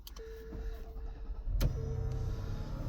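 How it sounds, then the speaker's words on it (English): A 2026 Infiniti QX80 Autograph is switched on from inside the cabin: a thin electronic tone, then a soft thump, followed by a steady low motorized whir as components power up. "Now, I'll turn the vehicle on."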